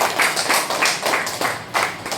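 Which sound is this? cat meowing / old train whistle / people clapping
people clapping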